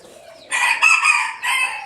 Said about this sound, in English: we got chickens flying around